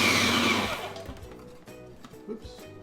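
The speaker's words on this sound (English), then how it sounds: "grind the onions." A grinder grinding onions for gefilte fish whirs loudly for under a second, then cuts off, leaving quieter clunks and handling noises nearby.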